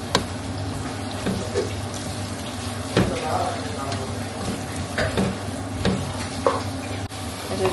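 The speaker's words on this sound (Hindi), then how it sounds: "थोड़ा सा मैंने लहसुन अदरक फ्राई कर लिया था और इसको भी मैं थोड़ा सा फ्राई कर लूँगी" Garlic, ginger and onion fry in oil in a pan for a prawn karahi, giving a steady loud sizzle with repeated stirring scrapes and clanks throughout.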